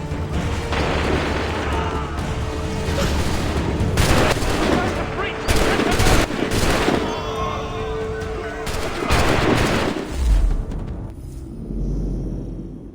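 Repeated gunfire in Assassin's Creed III, volleys of loud, dense shots and booms crackling through a busy battle soundscape, with voices shouting amid the shooting before it thins out near the end.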